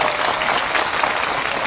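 A large crowd applauds loudly and steadily at an outdoor public rally for saving khejri trees in Bikaner, a dense continuous wash of clapping with little speech.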